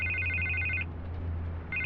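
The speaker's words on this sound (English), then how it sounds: "I can't get the phone to stop ringing." A telephone rings in the Batman: The Telltale Series video game, a bright electronic trill that sounds for most of a second, pauses, then starts again over a low steady hum.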